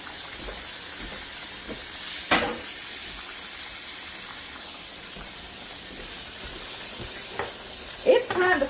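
Pork chops frying in a pan, Southern style, with a steady low sizzle throughout, broken by a few brief clinks and scrapes near the start and end.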